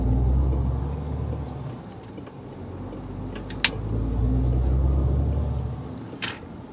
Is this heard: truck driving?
yes